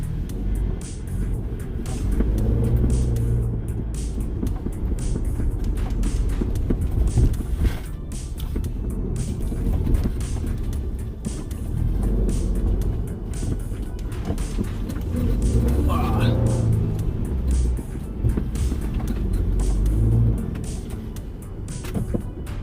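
A Ford Bronco engine works hard while driving off-road, with a steady, loud rumble that rises and falls in waves as the truck climbs over rough terrain.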